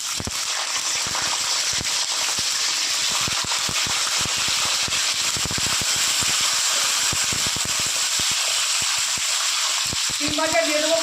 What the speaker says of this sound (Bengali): এবার আমি ভেজে নেব সিম।